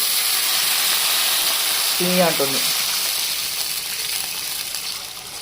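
Water poured into a hot pan of upma base on a home stove: a steady, loud sizzle and hiss throughout, with someone briefly speaking over it midway.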